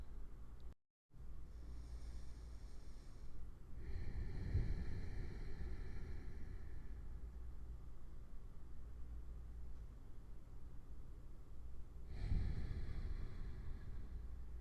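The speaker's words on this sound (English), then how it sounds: "begin a soft Ujjayi breathing" Soft, slow Ujjayi yoga breathing comes through as quiet, drawn-out airy swells, a couple of long breaths spaced several seconds apart over a hushed background.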